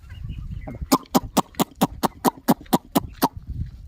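Chickens answer a call on a farm beside a harvested soybean field, giving about ten sharp, evenly spaced clucks close by in a steady rhythm.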